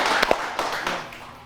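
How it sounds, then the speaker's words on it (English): Scattered applause breaks out for both quiz teams on a Ramadan TV quiz show, a few sharp claps up front thinning into a softer patter that fades over a second and a half. "we should give both teams a round of applause for trying their best"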